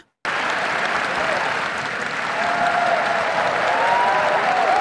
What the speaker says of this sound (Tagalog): Palakpak pa ng palakpak